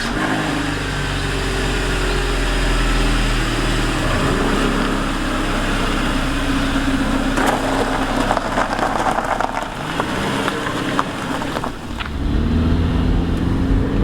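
A BMW 1 Series car engine hums steadily during a road test after front strut shock absorber repair, with low rumbling road noise and a shift in tone near the end.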